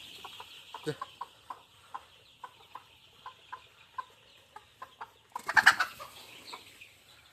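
Chickens in a poultry shed give short, regular clucks in a quiet, steady series, followed by a brief burst of louder flapping and commotion near the end.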